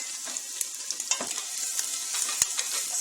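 Garlic sizzles in ghee in a hot pan for pumpkin soup, a steady close crackle with light stirring taps and a sharp utensil click near the end.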